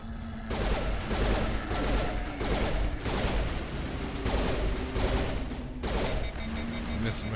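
Gunfire rattles through a video game battle against Geth on Feros, with dense bursts of automatic fire and overlapping shots repeating loudly and steadily throughout.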